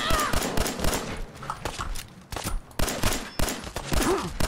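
Rapid gunfire in a video game, a dense run of sharp shots and bursts repeating across the whole stretch, loud and close with a faint voice mixed underneath.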